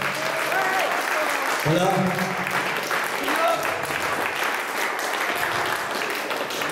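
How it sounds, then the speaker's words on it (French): An audience applauds at a tribute concert with a loud, continuous wash of clapping throughout, while someone speaks briefly over it. "j'aimerais qu'on les applaudisse très fort"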